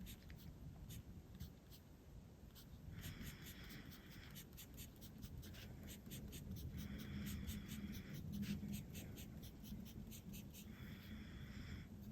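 A TWSBI Swipe fountain pen with a broad nib scratches across paper, writing ice blue ink in short bursts of soft strokes separated by brief pauses, quiet and close, with no talking.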